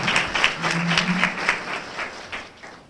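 A graduation audience applauds in a steady, dense wash of clapping that fades slightly toward the end, with a few voices mixed in.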